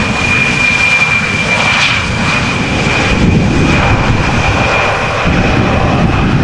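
A fixed-wing airplane flying near Amsterdam Schiphol Airport, a loud continuous engine roar with steady whine, filling the whole stretch with no talk.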